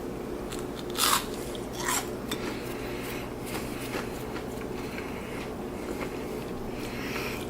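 Crunchy bites into Nuwave oven French fries and fish come through close to the mic, a couple of louder crisp bites followed by softer chewing crunches over a steady background hum.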